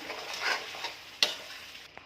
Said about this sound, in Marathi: आता हे छान असं वाटणाला तेल सुटेपर्यंत वाटण परतून घ्यायचं आहे